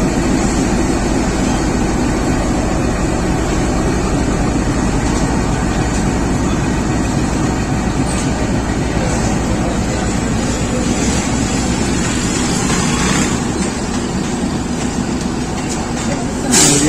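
A GEU 20 locomotive, number 4560, leads the Awam Express out of Lala Musa station in Pakistan: a loud, steady, unbroken rumble close by, with wind buffeting the microphone throughout.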